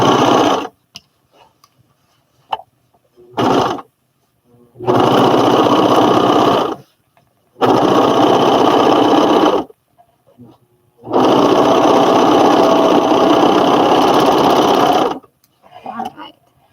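Topaz 40 sewing machine run from a serger foot pedal, stitching in three long bursts of steady rapid whirring between short taps and quiet gaps, loud and close.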